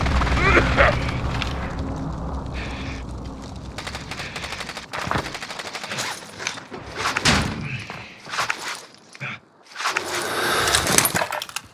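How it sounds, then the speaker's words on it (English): Heavy precision airstrike explosions and gunfire in Call of Duty: Modern Warfare's Gasplay battle royale, a string of loud booming blasts and bursts with gaps between them, plus an announcer voice speaking. "Enemy precision airstrike"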